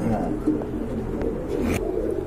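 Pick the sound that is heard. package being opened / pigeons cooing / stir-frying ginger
pigeons cooing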